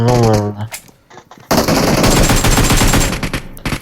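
Rapid machine gun bursts in the battle royale game PUBG, loud and dense after a short pause, with a voice heard at the start.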